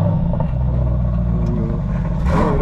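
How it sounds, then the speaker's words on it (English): Aston Martin DBX 707 on a cold start, a deep continuous engine rumble close by with a brief swell in revs toward the end, no talking over it. "I wanna hear the rumble whenever he starts it up"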